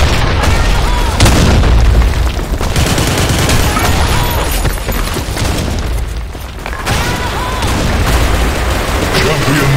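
Grenade blasts and rattling gunfire from the online shooter Blackshot, loud heavy booms landing repeatedly over several seconds amid continuous battle noise, with a voice calling out over the action.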